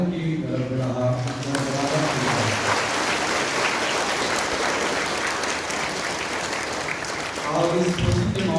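Sustained applause from a church congregation welcoming the bishop at a confirmation Mass in Kokar parish, Ranchi, steady and full for several seconds, with a voice speaking over it at the start and again at the end.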